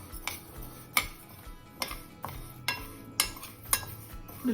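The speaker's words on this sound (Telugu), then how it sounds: "పెసరపప్పు లైట్గా వేయించుకుందాం" A spatula scrapes and clinks against a pan at a steady rhythm while moong dal roasts light brown, with a quiet, dry rustle between strokes and no voices.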